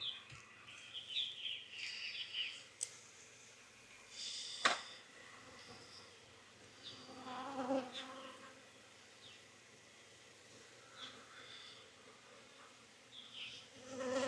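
Honey bees buzzing around an open beehive outdoors during queen banking work in Jacksonville, Florida, a steady low insect drone with occasional louder passes close by and faint bird chirps in the background.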